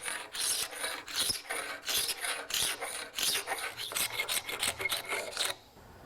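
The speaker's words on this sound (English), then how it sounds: "fine metal file to sharpen it" A fine metal file rasps back and forth across a steel wood scraper clamped to a bench, in quick rhythmic strokes close up, stopping abruptly near the end.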